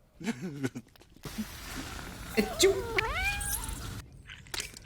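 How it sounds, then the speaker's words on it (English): A cat meows in a scene from the film The Spirit, giving a drawn-out, rising and falling cry in the middle of the clip, mixed with other film sounds and some speech. "And for no reason at all, he kills a cat named Muffin."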